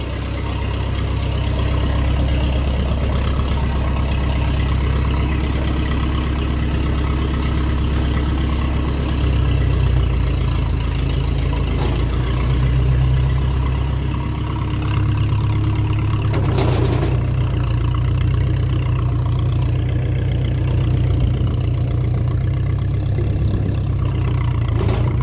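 A 1957 Ferguson 35 tractor running on TVO idles loudly and close through a diesel silencer, a deep steady low rumble that shifts slightly in pitch partway through, with no voices.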